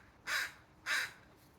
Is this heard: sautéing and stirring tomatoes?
no